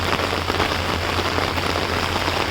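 Heavy rain drums steadily and loudly on an umbrella beside a stopped train, a dense continuous patter with no pauses and a low steady hum beneath it.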